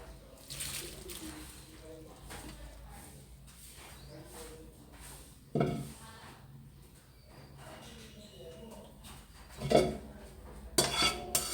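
A utensil scrapes and clinks against a bowl as atsara dressing is mixed into grated papaya, with soft, steady stirring and a few sharper knocks near the end, close by.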